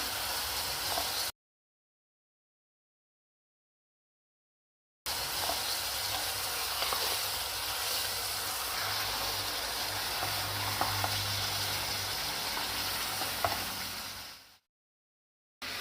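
Chicken curry masala being fried in a pan, a faint steady sizzle and hiss across two stretches separated by silence, with no talk.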